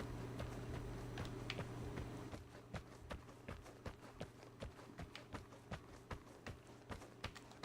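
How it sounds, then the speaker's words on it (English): Rapid footsteps in the video game Vigor, a quick regular run of sharp steps that grow distinct after a low steady hum fades, fairly loud and close with no talk. "Still, your footsteps do come through quite loud."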